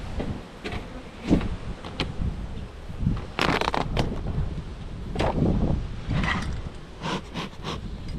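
Honey bees from an opened beehive colony keep up a steady buzzing drone, mixed with wind gusts and occasional handling knocks close to the microphone.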